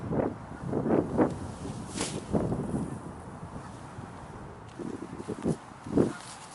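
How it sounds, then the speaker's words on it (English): Outdoor wind at about 4 to 8 mph gusting across the microphone during bass fishing, with uneven rumbling buffets that rise and fall for several seconds, fairly close and loud. "But I don't have an indoor facility, so we're going to deal with the wind."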